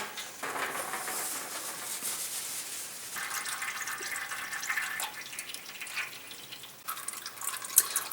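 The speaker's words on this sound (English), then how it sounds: "While your oil is draining," Motor oil drains from the drain plug of a 2009 Mercedes-Benz C300 into a pan as a soft, steady trickling pour with faint splashes, quiet and continuous throughout.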